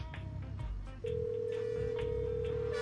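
A telephone tone sounds close by, starting partway through and holding steady to the end with no one answering or speaking.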